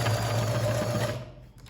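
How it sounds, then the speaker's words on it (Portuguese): A sewing machine runs steadily, stitching elastic in place on a drawstring bag, a loud continuous whir that fades out near the end. "vou ali na máquina e passo 2 costurinhas, uma de cada lado, pra segurar esse meu elástico."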